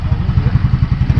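Yamaha Fazzio125 scooter engine running close up, a steady low pulsing throb with rhythmic thumping as the throttle is worked, loud and alone without talk.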